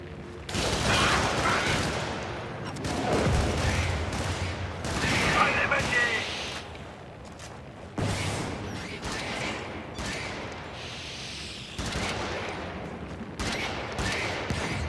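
Heavy video game combat with sustained volleys of gunfire and booming artillery fire, including a railcannon turret, loud and continuous in waves, while voices talk over the shooting.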